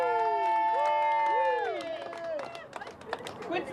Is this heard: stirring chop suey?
no